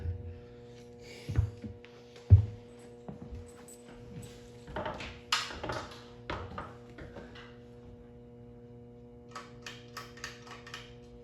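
Homestead Wind 2 ceiling fan, just after a switch housing repair, running at medium speed: a steady low motor hum with faint rhythmic ticks and soft thumps from a slight wobble, heard close with no talking.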